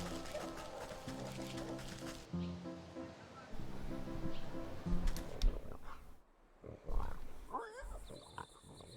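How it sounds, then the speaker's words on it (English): A pig squeals in the video game Wytchwood, a runty swine heard over looping game music and ambient sounds, with repeated high-pitched cries near the end. "You can hear the runty swine squealing even before you see her."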